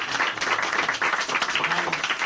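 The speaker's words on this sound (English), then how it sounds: "Give her a big round of applause." An audience at a campaign gathering for an Illinois candidate claps in warm, steady applause, a close, moderately sized crowd with faint voices mixed underneath.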